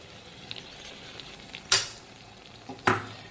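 Sour yogurt frying into mutton curry masala over a low flame gives a quiet continuous sizzle, punctuated by two sharp spatters or stirring scrapes.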